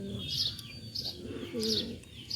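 Siraji pigeons, part of a black Lahori cross-breed flock, coo in low, soft bursts close by, with brief higher chirps mixed in.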